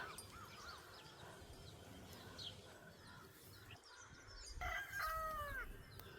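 Birds call outdoors in a Tamil Nadu village in the morning against a steady rumble of background noise, and a rooster's crow rings out near the end.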